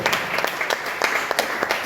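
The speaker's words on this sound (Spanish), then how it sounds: "Dale un aplauso al Señor" A church congregation claps in a quick, steady rhythm during a service, with close, sharp handclaps repeating throughout.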